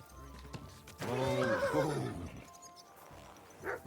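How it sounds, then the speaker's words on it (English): A horse in Kingdom Come: Deliverance 2 lets out one loud, close neigh lasting about a second, followed by faint hoof clops. "You seem like a good horse"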